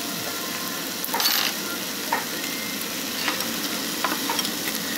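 Beef frying in a hot pan gives off a steady, close sizzle, with occasional clinks and scrapes of stirring on top and no voices.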